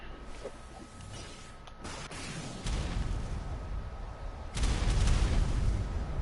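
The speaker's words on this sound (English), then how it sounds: "if you want to clear out a large area with rocks, you use cluster grenades" Cluster grenades burst in ARK: Survival Evolved on the Ragnarok map, smashing rocks across a wide area, with a run of broadband explosive booms stacking into a loud, rumbling barrage that swells twice.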